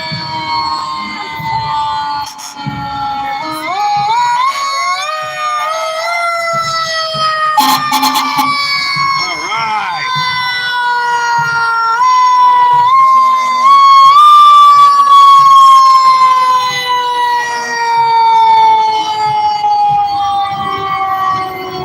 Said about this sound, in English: An engine from city of Fort Myers.